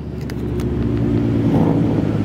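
A Nissan GTR engine revs up close at a Mustang car meet, a deep throaty rumble swelling louder over a couple of seconds.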